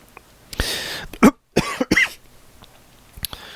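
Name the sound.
stifled loud cough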